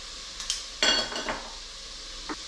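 Cooked chicken thighs are lifted out of a pot onto a plate, giving a few close clinks and scrapes of utensil on cookware, with a brief sizzling clatter and a faint soft tap at the end.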